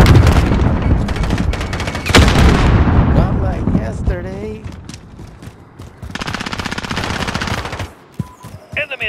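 Rapid shotgun and automatic gunfire in a team deathmatch of Call of Duty: Modern Warfare on PS4, loud, close bursts of shots with heavier blasts, briefly broken by a voice in the middle.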